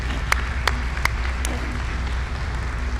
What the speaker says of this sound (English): Let's applaud Dr. Harry Murphy, founder of this conference 35 years ago.